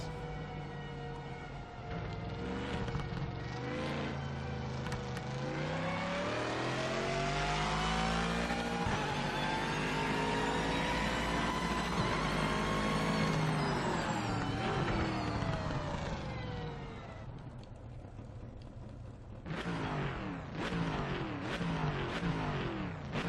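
Car engine in a racing video game revving hard through rising and falling gear pitches, with downshift blips and a brief drop before renewed acceleration, loud and continuous throughout.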